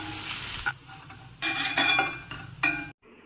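Leftover chapatis being stir-fried into chivda in a home kitchen pan, with loud bursts of sizzling and scraping stirring that come in waves and briefly drop away, then cut off abruptly at the end.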